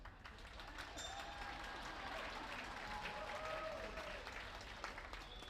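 Steady applause from an audience aboard a cruise ship during a comedy show, a dense continuous wash of clapping lasting throughout, with faint crowd murmur and a few brief whistles or tones above it.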